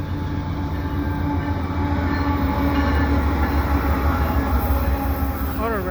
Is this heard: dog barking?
no